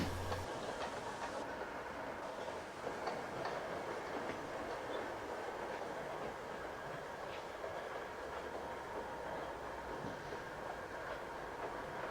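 A model steam train bursts from a tunnel on a model railway, rolling by steadily with faint clickety-clack of wheels and a soft rushing hiss, quiet and continuous throughout.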